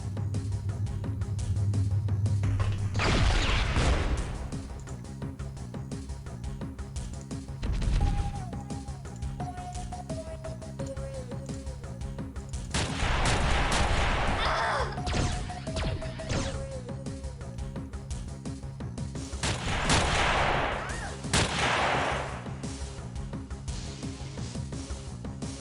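Grenade blasts and gunfire in the turn-based strategy game Xpiratez, several loud broadband bursts spaced through the clip over a steady game music bed with a falling chime melody.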